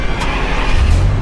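Car driven in a video game during a chase, a loud continuous engine roar with a rise in low rumble toward the end, close and alone.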